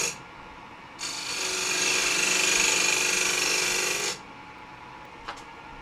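A square-end carbide tool scrapes a redwood bowl turning on a lathe, with a steady, fairly loud rasping hiss lasting about three seconds between quieter pauses.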